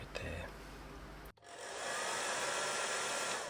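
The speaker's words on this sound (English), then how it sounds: "So I've dried that with my hairdryer." A hair dryer blows with a steady, loud whooshing hum that starts abruptly after a brief pause and continues without letting up.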